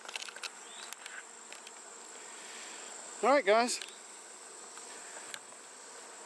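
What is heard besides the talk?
bees swarming at a feeder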